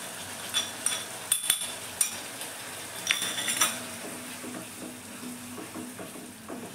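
Fried spices tipped into a pan for onion- and garlic-free masala paneer, giving a few sharp metallic clinks and scrapes early on, then a low, steady sizzle with soft stirring scrapes; no talking.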